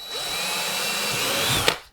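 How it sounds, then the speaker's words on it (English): A power drill runs continuously for nearly two seconds while boring a hole into the hull of an Old Town Malibu PDL kayak for an anchor trolley, then ends with a sharp click and cuts off. "just go ahead and drill where you think you're going to want it at"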